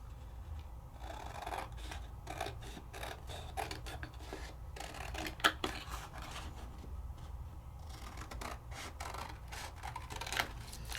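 Scissors trim the edge of a craft mat in a series of close, crisp snips and short rasping cuts, with one sharper click partway through and no talking.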